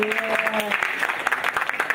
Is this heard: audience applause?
yes